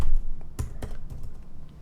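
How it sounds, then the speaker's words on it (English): Typing on a computer keyboard: a handful of quick, irregular key taps, close and clear, with no voice. "So just by typing in the word free, I've got a bunch of sounds here"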